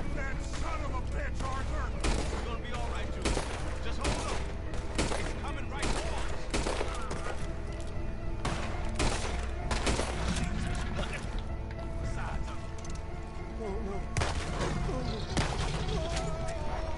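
Rapid gunfire from Red Dead Redemption 2 cracks in dense, overlapping bursts almost continuously throughout, loud and close, with players talking over the shooting.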